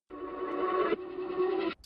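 A reversed vocal sample with no added effects swells in as two sustained tonal phrases, each rising to a sudden cutoff, heard alone and fairly close.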